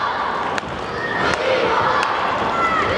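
A wrestling crowd in an Ankara arena chants for Big Boy, a loud rhythmic mass of voices with a few sharp thuds, and a commentator speaks over it.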